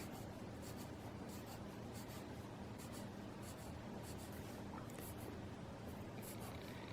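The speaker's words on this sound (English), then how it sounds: "we're just going to keep drawing these stripes all the way down the back." A pen or pencil draws stripes on paper in a continuous, close scratchy rubbing with faint rhythmic strokes, and no talking.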